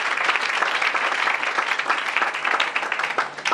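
A church congregation breaks into sustained applause, dense and steady clapping that fills the space for the whole stretch with no pauses and no talk on top.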